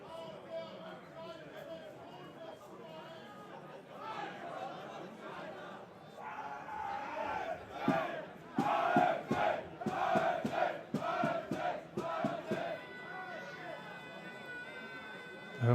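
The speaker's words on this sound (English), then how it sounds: "The home crowd now starting to rally behind their side" The home crowd at an amateur football match between HFC Falke and A.S.D. Lodigiani cheers and rallies, rising into rhythmic chanting and clapping. The sound carries from across the ground, with a commentator talking over it.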